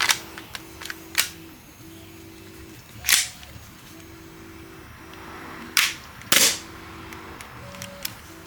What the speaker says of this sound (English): let's just dry fire it